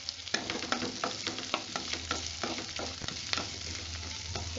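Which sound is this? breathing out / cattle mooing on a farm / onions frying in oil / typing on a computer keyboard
onions frying in oil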